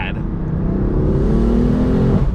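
Turbocharged sports car engine, Corvette or BMW M4, revving loud and close, a steady droning roar with rising harmonic sweeps across the pass, turbo whoosh dominating the engine note.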